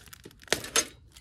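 A sharp knife slicing through the packaging on an A/C condenser for a 7th-generation Nissan Maxima: a couple of quick crisp tearing cuts between faint rustles, close up.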